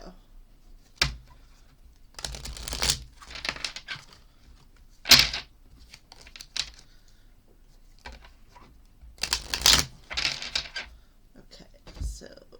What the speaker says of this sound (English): So we're going to shuffle them up real good